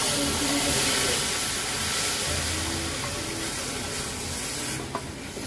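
Water poured onto roasted semolina in a hot pan, a loud steady sizzle and hiss of steam that continues throughout, easing slightly toward the end with a faint clink.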